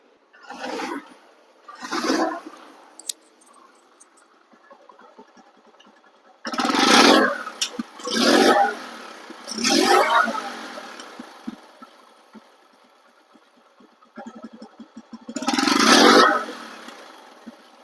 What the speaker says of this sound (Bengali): একটা বাইক চার হাজার কিলো চলা এটা সাউন্ড নতুনই হবে